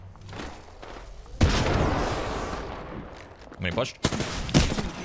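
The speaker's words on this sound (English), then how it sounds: "Shots fired, and they're hitting me" Gunfire in a video game erupts in a loud burst followed by scattered sharp shots, while someone speaks briefly over the fight.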